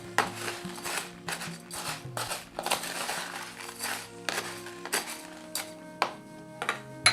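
Burnt clay and sphagnum moss are mixed together for bonsai soil, making a series of crunchy, gritty scraping and clinking strokes in an uneven rhythm, close by and fairly quiet.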